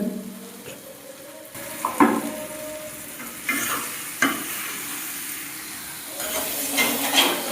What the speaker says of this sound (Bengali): এখন আমার উস্তাদে হালকাভাবে নাড়াচাড়া করতেছে।